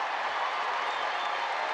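Dense, continuous crowd applause fills the arena at a women's college basketball tournament game in Bloomington, Indiana, as the home side wins; a steady, distant-sounding wash of many hands clapping at even loudness, with no individual claps standing out.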